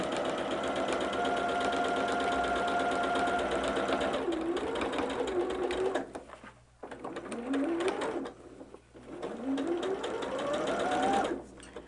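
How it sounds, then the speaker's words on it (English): A sewing machine runs a long steady burst while stitching a quilt seam for a barn star sampler, then stops and restarts in several shorter runs with pauses between them. "Sewing on this seam, this side also allows us to watch those seams"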